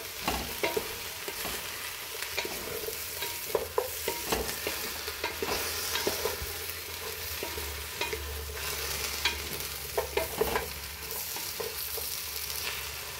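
Chopped onion sizzles and sautés in a hot pan as the first step of Filipino pinakbet, with steady frying hiss broken by repeated stirring scrapes and clatters of the utensil, close and fairly loud.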